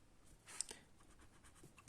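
Chalk or pen scratching out a physics formula on a board in a classroom lesson, a few short soft strokes with light clicks, fairly faint and close, no talking.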